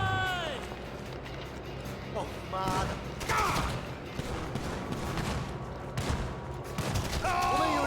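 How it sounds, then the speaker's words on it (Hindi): An AK-47 fires in a GTA video game in uneven bursts and single shots, mixed with other game sounds and a voice talking over the action. "टूल अप करके हम AK-47 लेते हैं अपने हाथ में, फिर उनको बताते हैं साला।"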